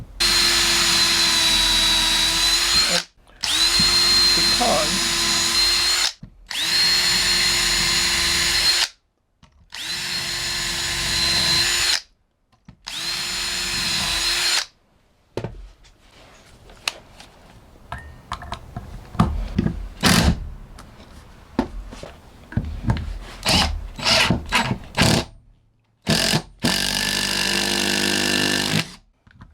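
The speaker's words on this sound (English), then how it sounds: "I'm going to drill my first pilot hole here." A power drill whines in five steady bursts boring a pilot hole into pecan wood, followed by clattering handling noises, then one more drilling burst. A brief spoken word.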